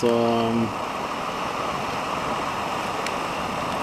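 Water being scooped or poured from a stream for camp tea in the Norwegian forest, a steady broadband rushing that continues throughout; a short tonal hum at the start, then the flow runs alone.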